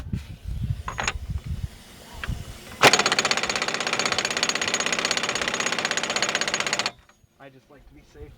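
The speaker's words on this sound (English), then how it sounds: "I'm gonna hit that one more time with the impact gun" An impact gun hammering on the front wheel hub axle nut of a 2000 Pontiac Grand Prix GT, one sustained loud rattling burst of about four seconds, preceded by handling noises and a short bit of talk.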